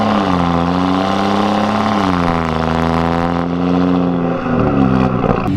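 A car fitted with an AWE non-resonated performance mid pipe exhaust drives along with a steady, loud, droning engine note that rises and falls slightly through gear and throttle changes, heard close with no talk.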